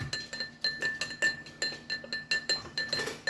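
A metal spoon stirring sugar into absinthe in a glass, making rapid, regular clinks against the glass with a bright ringing tone, close and continuous.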